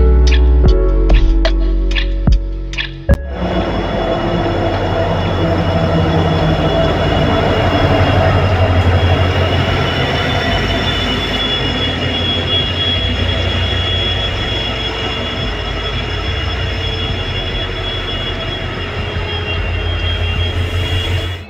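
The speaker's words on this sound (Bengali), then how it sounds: "ফাইনালি কিন্তু আমাদের ট্রেন কুচবিহার রেল স্টেশনে কিন্তু আসছে" The Siliguri Intercity Express rolls into Cooch Behar railway station with a loud, continuous rumble of wheels and carriages. Sharp clacks open the passage, then a long steady roar carries high wheel squeal on top.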